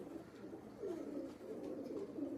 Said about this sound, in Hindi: इंतहाई पेवर कबूतर जी